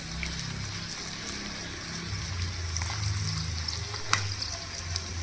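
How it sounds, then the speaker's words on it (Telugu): Korameenu fish sizzling in hot oil while frying, a steady close crackle with scattered sharp pops throughout. "వీటిని మళ్ళీ సెకండ్ సైడ్ కూడా తిప్పుకొని ఫ్రై చేసేసుకోవాలి."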